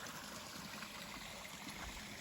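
A small mountain stream on the Appalachian Trail in Georgia, just past Low Gap, trickles and flows downhill, a soft continuous wash of water heard fairly close with no voices.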